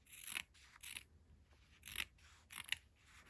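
Quiet, close scissor snips trimming textile in a home studio, about five crisp cuts in an uneven rhythm with faint metallic clicks between them.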